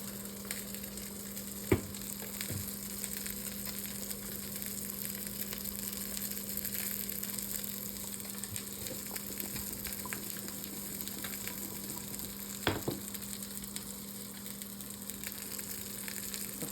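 Bream fish fry in butter in a pan outdoors at Fort Victoria on the Isle of Wight, a faint, steady sizzle with a constant low hum and a couple of sharp knocks.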